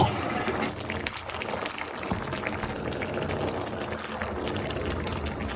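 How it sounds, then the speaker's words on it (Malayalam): Potato beef curry boiling in a pot, giving a steady, continuous bubbling and simmering that holds at an even level throughout. "എന്താ തിളക്കുന്നുണ്ട്, തിളക്കിന് കാണിച്ചേ"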